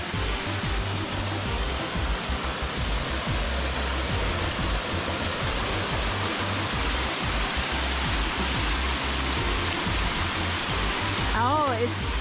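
Rouse Falls in Wisconsin pours in a loud, continuous roar of rushing water close by, a dense unbroken wash of spray and splashing that holds steady throughout.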